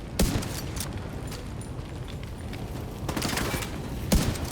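Gunfire in The Division 2, scattered bursts and single loud shots near and far over a constant battle din, with sharp cracks standing out at intervals.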